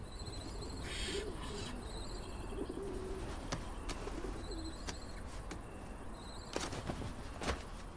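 Young owls call from an owl nest box in an ornithologists' breeding programme, giving soft repeated hoots and hissing begging calls with scattered sharp clicks over steady background noise.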